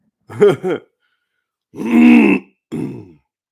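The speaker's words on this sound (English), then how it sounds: "I'm going to be clearing my throat." A person who has been sick clears their throat in three short, gravelly bursts with brief pauses between them, close and fairly loud.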